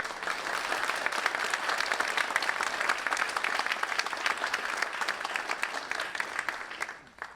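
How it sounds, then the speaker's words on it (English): A school district spelling bee audience gives the student spellers a long, loud round of applause, dense clapping from a large crowd that holds steady for several seconds before cutting off. "I think they deserve a round of applause."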